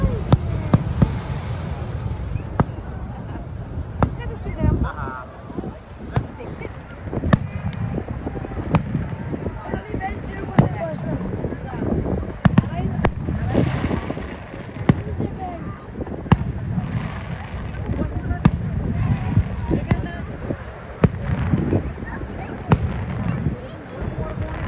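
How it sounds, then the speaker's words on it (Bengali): Fireworks burst at night over Niagara Falls as a series of irregular booms and pops, some sharper and closer than others. A low rumble of wind or water runs underneath, with faint voices in the background. "তো রাতের বেলা আবার আমরা এলাম ফায়ার ওয়ার্কস দেখতে। আমরা যখন এসেছি তখন থেকেই ফায়ার ওয়ার্কস স্টার্ট হয়েছে।"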